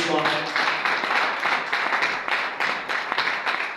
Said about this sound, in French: On va continuer à l'encourager avec nos applaudissements.